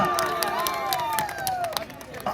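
Crowd applause and cheering at an outdoor election victory campaign rally in a residential colony, a dense steady wash of clapping and shouting voices with high whistle-like tones, continuous throughout.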